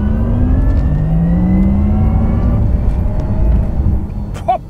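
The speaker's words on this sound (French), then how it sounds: "Et là, vous enfoncez l'accélérateur." A Porsche Taycan electric car accelerating hard, its rising synthetic whine climbing steadily in pitch over a deep rumble. Loud and close throughout, with no talking.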